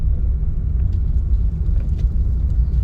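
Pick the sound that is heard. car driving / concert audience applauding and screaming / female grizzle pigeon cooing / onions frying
car driving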